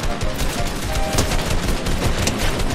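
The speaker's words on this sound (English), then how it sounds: "it's the fact that I shot the wall" Rapid gunfire in Fortnite, a dense burst of shots hammering into a wall, loud and close throughout.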